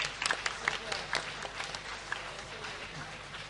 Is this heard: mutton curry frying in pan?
no